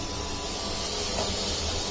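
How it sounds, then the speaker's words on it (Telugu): Onions frying in a pan for a home-cooked onion pulusu, a steady close sizzle and hiss that runs unbroken throughout. "ఆనియన్స్ ట్రాన్స్పరెంట్ గా అయ్యేంత వరకు వేయించుకోవాలి"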